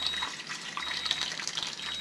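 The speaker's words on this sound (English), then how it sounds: "Kangen water is coming out the top here. Okay, so I'm going to fill it up." Kangen water streams from the top of an ionizer machine into a container, a steady broadband splashing flow that stays continuous and fairly close throughout, with no talking.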